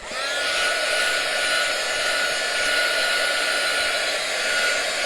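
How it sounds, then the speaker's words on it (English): A hair dryer blows steadily with a constant whirring hiss and a faint high whine, running on its own without interruption. "So I'm going to actually hit it with a dryer to speed it up."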